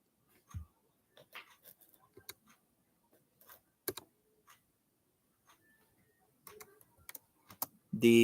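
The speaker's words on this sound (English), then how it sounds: "Let me type that." Sparse, irregular clicks of keyboard typing, light taps spaced out with gaps of quiet, close by, ending in a louder burst of noise.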